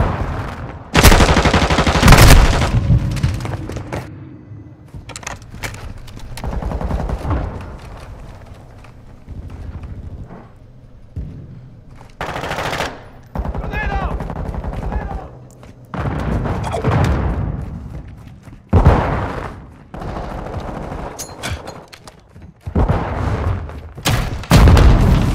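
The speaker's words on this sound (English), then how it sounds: "Throwing grenade! Throwing flash grenade!" Grenade explosions and gunfire in a Call of Duty match, loud repeated booms and bursts of rifle and machine-gun fire coming in clusters across the span, with quieter gaps between volleys.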